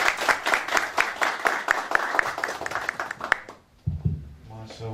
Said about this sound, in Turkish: alkışa devam etsin